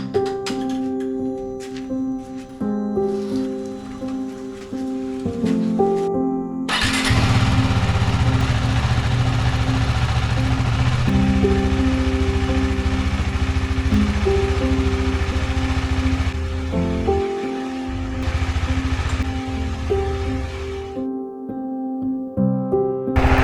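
A motorcycle engine runs loud and steady after a cold start before a long ride, with a rough low hum that rises and fills out partway through, then settles back.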